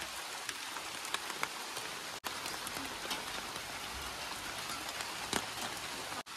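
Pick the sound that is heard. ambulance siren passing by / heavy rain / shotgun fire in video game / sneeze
heavy rain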